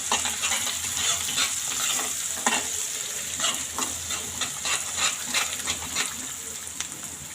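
Spatula stirring ground masala into an eggplant curry in a pan, village-style bhaji, with a steady sizzle and repeated scraping strokes throughout, close and fairly loud, no talk.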